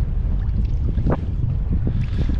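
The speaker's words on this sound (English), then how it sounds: "It's surprisingly breezy morning." Breezy morning wind buffets the microphone on Western Long Island Sound during kayak fishing, a steady low rumble with brief splashes and creaks of the kayak, no talk.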